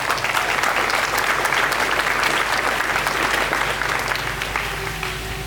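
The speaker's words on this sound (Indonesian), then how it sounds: "Tepuk tangan untuk kita semua." A large audience of the Faculty of Economics and Business at Universitas Sebelas Maret Surakarta applauds during new-student orientation, a loud, dense wash of clapping and crowd noise that tapers slightly toward the end.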